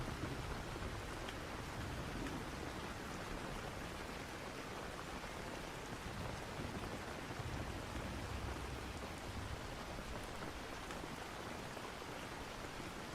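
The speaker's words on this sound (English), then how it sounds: "Rain lashed against the windows" Steady rain falling during a storm, a dense, even hiss of drops on surfaces that continues unbroken throughout, fairly soft and with no voices.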